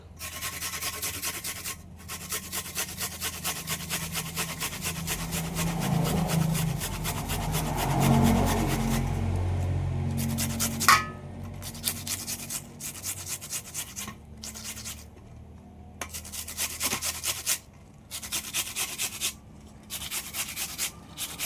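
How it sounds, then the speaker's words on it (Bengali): Four onions are grated on a hand grater in a home kitchen, producing close, rhythmic rasping strokes that run steadily, then continue in shorter bursts separated by brief pauses. "এই পেঁয়াজগুলো সব আমি গ্রেটার দিয়ে গ্রেট করে নেব"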